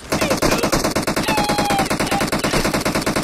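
Rapid automatic gunfire from an online multiplayer shooter game, a loud continuous burst of closely spaced shots lasting the whole moment with no pauses, set against faint game ambience and no talking.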